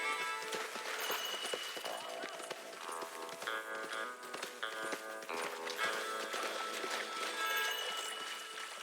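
Horse hooves clatter in a quick, steady galloping rhythm in Red Dead Redemption 2, mixed with game sounds and other noise throughout.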